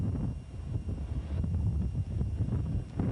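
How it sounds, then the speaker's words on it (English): Strong wind gusts buffet the microphone at a 1984 road bicycle race, a low continuous rumbling roar that swells and dips without letup. "The wind is quite strong."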